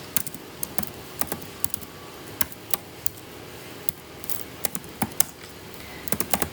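Fingers tap a computer keyboard while a Python print statement is entered: irregular sharp clicks, some in quick bursts, close and crisp, with no voice.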